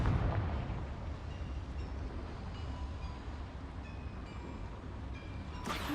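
The Confringo fire spell in Hogwarts Legacy goes off as a deep, rumbling blast with a long roaring tail that fills the whole stretch, ending in a sharp burst.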